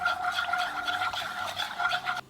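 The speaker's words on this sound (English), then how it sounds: "Whisk and bring it to a simmer." Whisk scraping steadily through sweet and sour sauce of orange juice, ketchup, sugar and salt in a pot over medium heat, a continuous close brushing rasp with faint tonal ringing throughout.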